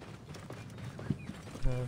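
Horse hooves clip-clop along a road in the video game Assassin's Creed Origins, a quick irregular patter mixed with other game sounds and a low rumble that swells near the end.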